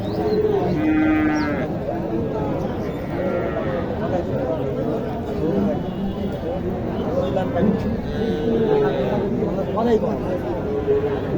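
Cattle and other livestock at a busy market, with repeated low lowing and moos sounding fairly close. Loud crowd chatter and voices run throughout.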